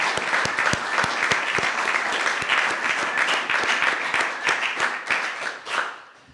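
Audience applause following a speech at an Eagle Scout Court of Honor, a dense, steady round of clapping from a roomful of people that carries throughout and tapers off near the end.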